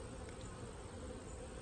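A steady, dense buzzing of many honey bees in a hive, continuous and close, with no pauses or voices.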